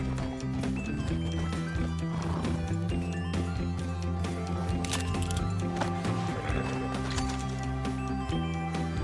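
A horse in the video game Red Dead Redemption 2 whinnies and clip-clops over a busy bed of steady music and game effects, its calls loud and close in the mix.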